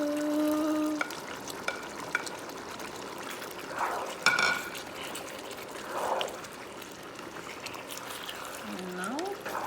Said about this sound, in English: So now I will be adding tomato.